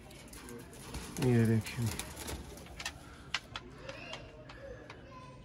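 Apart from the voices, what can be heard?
Sialkoti pigeons cooing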